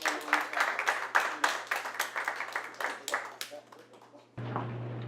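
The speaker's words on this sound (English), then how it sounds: "Let's give a round of applause to Johnson." A crowd claps in a quick burst of applause that gradually thins out and stops, followed by a low steady hum.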